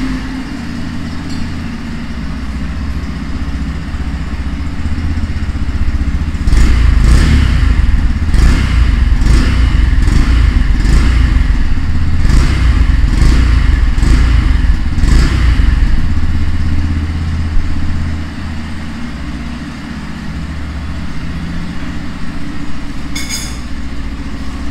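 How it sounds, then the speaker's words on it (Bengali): A 2023 Yamaha FZS V4 motorcycle engine idles close by with a steady low thrum, then a series of sharp throttle blips rises and falls in quick succession before it settles back to a smooth idle. "আর আমি আপনাকে এখনই ইঞ্জিনের সাউন্ডটা শুনিয়ে দিচ্ছি"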